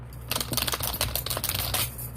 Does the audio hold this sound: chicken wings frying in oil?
no